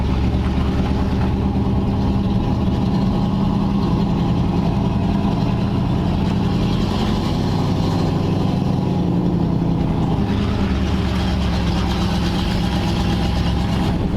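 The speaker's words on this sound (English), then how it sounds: "we're gonna try and take our first drive to the gas station with the carburetor repaired by Steve" A 1940 Ford Tudor driving after a carburetor and exhaust repair: a loud, steady engine drone with road noise that holds evenly from start to finish.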